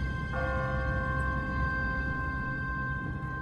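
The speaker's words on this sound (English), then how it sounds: "What kind of church bell goes off at 20 past the hour?" A church bell in The Walking Dead video game rings a steady sustained tone, its bright overtones beginning suddenly and holding clearly over low ambient rumble.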